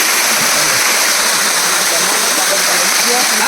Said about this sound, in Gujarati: આ રહ્યો મસ્ત ધોધ છે ગાઈસ.